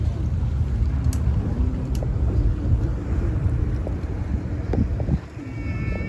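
A wooden boat's motor drones steadily while running on a river, with wind buffeting the microphone throughout.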